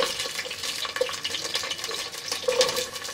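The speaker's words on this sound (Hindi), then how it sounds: "प्याज डालेंगे।" Onions frying in oil for sarson ka saag sizzle steadily, with stirring and light scraping in the pan, close and continuous, with no voice over it.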